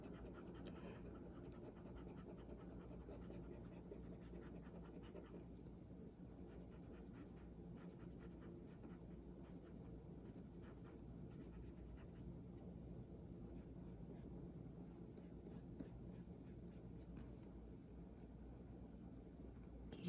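Steady, soft scratchy rubbing of an eraser across paper around a mountain stencil, a continuous close scrubbing with faint dry scratches running the whole length.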